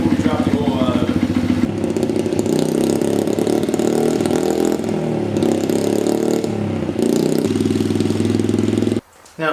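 A dirt bike engine idles steadily to warm up before an oil change, its low, even drone running continuously in the garage, with a small dip in level near the end.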